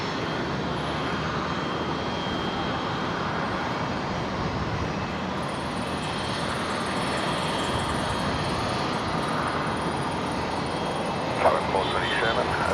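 A Qantas airliner from Christchurch touches down at Brisbane Airport, a broad steady roar of engines and rushing air holding level throughout, with a brief louder burst near the end.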